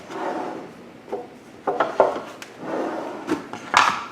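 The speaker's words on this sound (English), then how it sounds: "I want to trim off the fat" A knife trims fat off thick 8-ounce pork chops on a board, making irregular close scraping, rubbing and light knocking sounds with short pauses between strokes.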